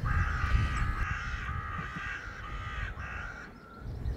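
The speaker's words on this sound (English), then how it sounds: "Crows are having a right morning of it." Crows caw repeatedly in the early morning, harsh calls overlapping in a steady chorus over a low background rumble, loud and fairly near, with no talking.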